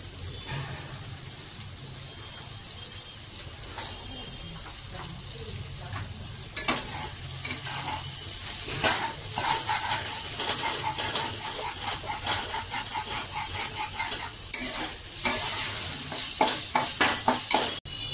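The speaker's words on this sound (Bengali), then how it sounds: "মশলার মধ্যে নুন চিনি লঙ্কা দিয়ে ভালো করে এবার একটু কষিয়ে নিচ্ছি।" Mushroom masala with salt, sugar and chilli stir-fried for chilli mushroom, a steady close sizzle with repeated scraping and stirring clicks that grow busier toward the end, no voices.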